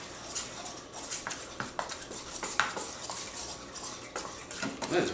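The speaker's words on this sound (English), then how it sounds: "with my chopstick, I'm going to stir this dough up" A chopstick stirs soupy ciabatta bread dough in a bowl, producing rapid, continuous clattering and scraping taps against the bowl, close and fairly loud.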